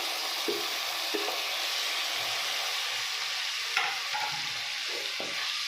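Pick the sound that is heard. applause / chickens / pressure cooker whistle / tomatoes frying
tomatoes frying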